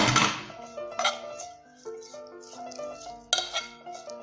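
A spoon stirs a filling seasoned with a pinch of sumac in a pan, giving a few scraping clinks and light metallic taps spaced over several seconds in a quiet kitchen.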